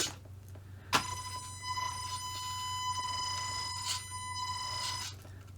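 Electric motor and ESC on a Tamiya Escort MK II rally RC car with an MF-01X chassis, heard after a sharp click as a steady, bright whine held for about four seconds, then cutting out. No voices.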